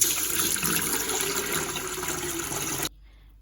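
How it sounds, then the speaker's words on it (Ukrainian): Water pours steadily into a pot with sugar for making syrup, a rushing, splashing sound for a few seconds, then stops abruptly. "Виливаємо воду"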